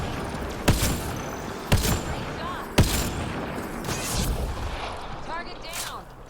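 Hand cannon fire in a video game: three sharp, widely spaced booming shots, then two softer blasts, each with a short echoing tail over a busy background.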